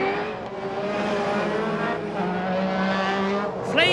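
A 1991 British Rallycross Grand Prix car with an overheating turbocharged engine races past, its loud, steady harmonic engine roar droning throughout, with a sharp rising whine near the end.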